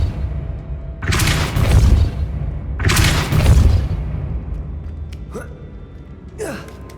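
Two forceful whooshing blasts of the Depulso pushing spell in Hogwarts Legacy, each about a second long, followed by a couple of faint shorter swishes and brief breathy effort sounds.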